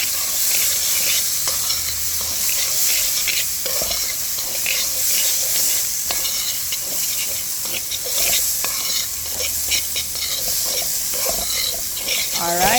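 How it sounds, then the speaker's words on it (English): Gungo peas being stirred with curry in a pot for Jamaican stew: a steady scraping and sloshing churn with a faint sizzle underneath, close and fairly loud, with no talking. "give that a good stir, a good mix to combine the gungo peas with the curry"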